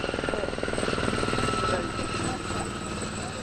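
A helicopter passes overhead in rural Colombia during coca-field fumigation, its rotor beating in rapid, regular thumps that swell and then ease into a continuous drone, with faint voices underneath.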